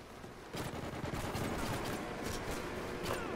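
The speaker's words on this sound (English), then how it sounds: "Camper shooting at me." Enemy gunfire in the video game Call of Duty Ghosts: dense, continuous bursts of shots with sharp cracks, moderately loud with no talk over it.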